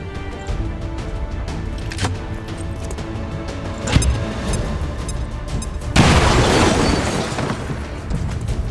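A grenade detonating in the turn-based strategy game XCOM 2, a sudden loud blast followed by a broad rumbling burst that lingers, preceded by a sharp thump over steady in-game background noise.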